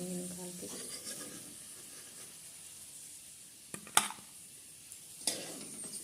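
Potatoes fry in a pan for a cabbage, potato and pea curry, giving a soft steady sizzle, with a few sharp scrapes and clinks of stirring near the end.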